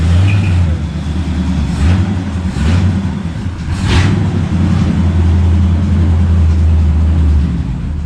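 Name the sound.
1979 Chevy Camaro 307 V8 engine running and driving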